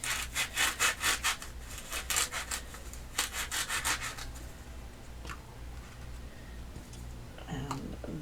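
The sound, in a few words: cutting and trimming a foam pool noodle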